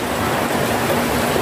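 An electric trike pushes through street floodwater deep enough to cover half its wheels after rain, giving a loud, continuous rushing and sloshing of water close by, with no talking.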